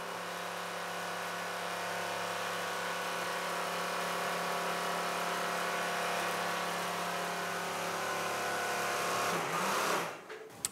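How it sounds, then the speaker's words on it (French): An old, noisy sewing machine stitches a down duvet in a convent workshop, a loud steady mechanical drone with a rattling hum that runs without a break, then winds down and stops near the end. "Étape suivante, la couture. La machine est bruyante,"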